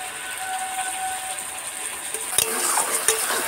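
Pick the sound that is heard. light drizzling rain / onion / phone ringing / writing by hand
onion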